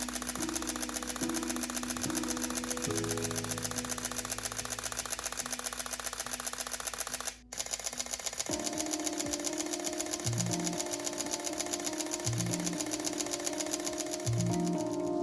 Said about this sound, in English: check out the differences in the sound of the shutter